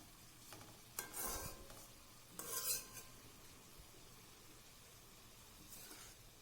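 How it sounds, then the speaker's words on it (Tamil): Spoon scraping and stirring cabbage kulambu in a pan, two short rustling strokes over a faint background sizzle, close and quiet, with no talk. "உப்பு போட்டதுக்கப்புறம் நல்லா கிளறி விட்டு ஒரு பத்து நிமிஷம் மூடி போட்டு வேக வச்சிங்கன்னா"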